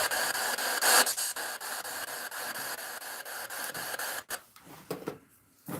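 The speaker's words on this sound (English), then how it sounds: "The white noise is the same from that film, White Noise, isn't it?" A ghost-hunting spirit box radio gives off harsh, loud white-noise static with a rapid rhythmic stutter, then breaks into choppy bursts near the end.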